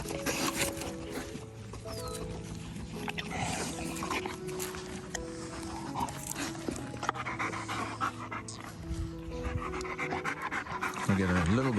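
Dogs panting steadily at close range during a focus and socialization training session, quick rhythmic breaths running throughout with a person talking over them and a brief whine near the end.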